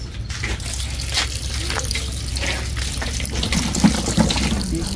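Water runs steadily from a tap into a sink, a continuous close gushing stream with faint clinks underneath.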